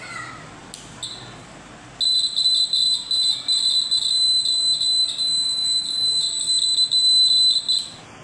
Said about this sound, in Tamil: இப்போ லேசாக நிலநடுக்கம் ஆரம்பிச்சோடனே நம்மளுக்கு சத்தத்தை கொடுத்துரும்